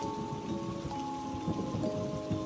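Steady rain on a surface during a storm around a mansion, a continuous moderate wash with faint low rumbles of thunder beneath, no voices.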